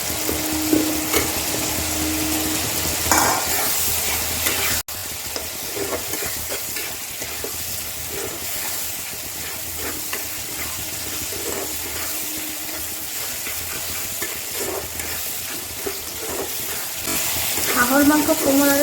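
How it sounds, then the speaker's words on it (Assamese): Potatoes fry with spices for an Assamese-style duck curry, a steady close sizzle with occasional stirring scrapes and a short clank, continuing throughout with no voices. "মছলাৰ লগত মই আলুখিনি ভাজি ল'ম"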